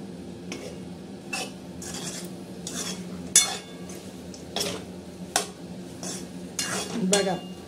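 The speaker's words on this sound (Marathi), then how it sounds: "आता छान पैकी अशी गरा गरा ही भाजी आपण हलवून घ्यायची।" Ridge gourd vegetable with crushed peanuts stirred in a pan, giving repeated scraping and clinking strokes of a spoon against the metal at an irregular rhythm, close and moderately loud, with faint hiss between the strokes.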